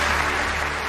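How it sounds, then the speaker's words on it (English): Rapturous studio audience applause at a televised sports awards ceremony, a dense steady wash of clapping throughout with no talk over it. "To rapturous applause from the studio audience"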